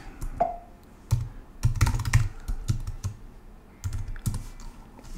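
Someone types a command into a Linux terminal on a computer keyboard, with irregular bursts of close, crisp key clicks separated by short pauses and no speech.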